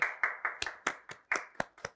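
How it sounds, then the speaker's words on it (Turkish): About ten crisp hand claps in a quick, slightly uneven rhythm, close and clear with silence between them and no talk over them, from a clothing-feedback session. "Alkışlayalım"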